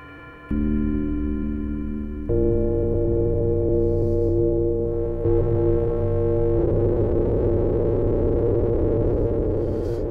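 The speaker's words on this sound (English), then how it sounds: "If I put some reverb on that as well." Sustained Novation Peak synthesizer tones stepping through layered, unstable chords, washed in spacious reverb that thickens as the sound grows brighter and noisier.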